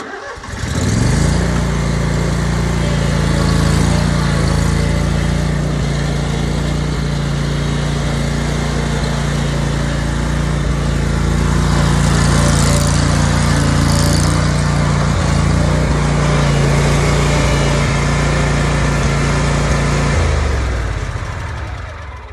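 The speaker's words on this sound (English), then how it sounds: "when I got this Spartan Mower, I just like the design of it" A Spartan riding lawn mower's engine starts up close by, then runs loud and steady for about twenty seconds before cutting off, with no talking over it.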